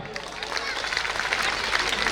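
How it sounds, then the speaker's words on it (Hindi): Loud applause from a school audience fills a courtyard at an annual function, a dense steady wash of many hands clapping together throughout, with some crowd noise mixed in. "जोरदार तालियां।"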